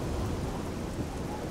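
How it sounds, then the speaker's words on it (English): Steady rain and rumbling thunder from a stormy outdoor scene in the Oblivion video game, a dense, constant wash of falling rain with deep low thunder underneath and no pauses. "Then again, it's raining."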